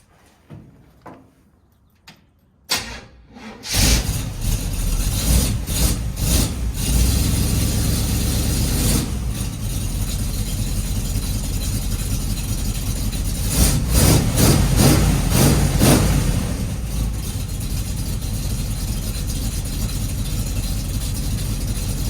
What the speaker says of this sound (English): see if we can get the car going